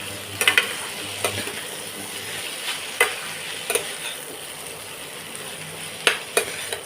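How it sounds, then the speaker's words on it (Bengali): Boiled kochur loti (taro stolons) with prawns fries in oil while being stirred, a steady sizzle broken by sharp scraping clicks of the spatula against the pan at irregular intervals, close and moderately loud, with no talking. "তো সেটাকে আমি এখন এই তেলের মধ্যে দিয়ে দিচ্ছি এবার এটাকে ভালো করে একটু তেলের সাথে মিশিয়ে দেব"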